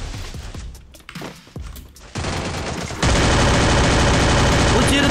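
Gunfire in the video game Free Fire: scattered single shots and short bursts at first, then dense continuous automatic fire that grows louder and steadier for the last few seconds.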